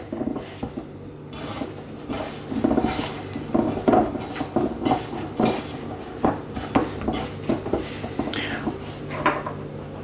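A spoon clatters and scrapes in a bowl while strawberry cornetto dough is mixed, giving irregular clinks and dull knocks of utensil against the dish, close by and moderately loud.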